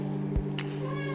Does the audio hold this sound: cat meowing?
yes